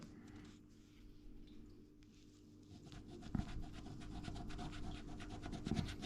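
Close, dry scratching of a coin or fingernail rubbing the coating off a scratch-off lottery ticket, in short repeated strokes that grow busier and louder toward the end, no voices.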